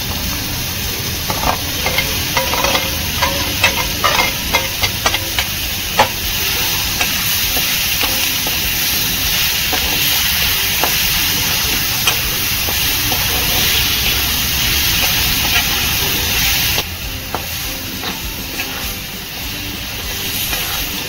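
Brinjal (eggplant) pieces being sautéed in a pan give a steady broadband hiss and sizzle, with scattered scraping stirs in the first half; the sizzle drops slightly near the end, and no one talks.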